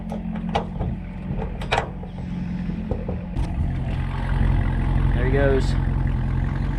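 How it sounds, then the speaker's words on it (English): A CR1 vehicle's engine rumbles steadily and swells louder as it pulls away nearby, with a few sharp knocks and someone talking briefly over it. "Ooh, that CR1 sounds awesome."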